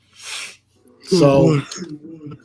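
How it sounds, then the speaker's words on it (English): A person yawns up close, starting with a breathy inhale and stretching into a long, voiced, groaning exhale. A brief spoken word is heard at the start. "That was a yawn. Yawned."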